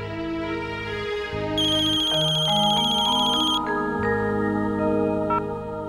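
A phone ringtone plays while a call to Naitik goes through, a melodic electronic tune with repeating bell-like notes, close and loud, running continuously with no talking.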